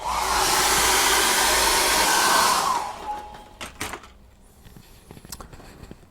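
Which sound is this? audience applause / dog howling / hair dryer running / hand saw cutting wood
hair dryer running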